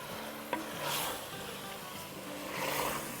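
Mutton with crushed green chillies and mild red chillies fries in a pot and is stirred steadily. The sizzle is constant, with scraping strokes and one sharp tap near the start.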